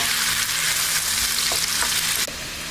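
Sliced onions and curry leaves frying in hot oil for a stuffed capsicum masala curry, a loud, steady crackling sizzle close by, with a brief clank near the end as it quietens slightly.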